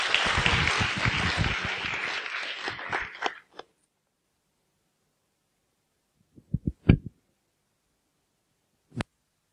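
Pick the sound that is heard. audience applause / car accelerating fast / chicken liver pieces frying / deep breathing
audience applause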